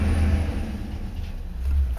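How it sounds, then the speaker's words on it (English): A grit lorry rumbles past on a frosty street outside a garage, a steady low drone that swells again near the end. "Grit lorry going by, maybe?"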